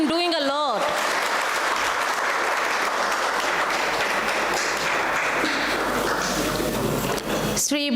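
Sustained applause from a conference audience at an academic event on war, migration and human rights, steady and full across the room, with a brief voice at the very start before the clapping swells.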